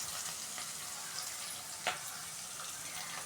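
Onions sauté for karuvattu kulambu, a South Indian dried-fish curry, with a soft, steady sizzle and faint stirring scrapes in the pan, and one brief louder clink partway through.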